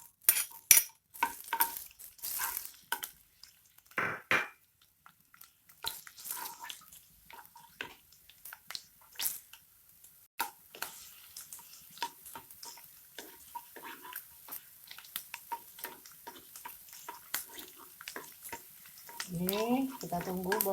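Garlic frying in oil in a pan for gulai tauco, a faint sizzle with clinks and stirring scrapes beneath a person talking.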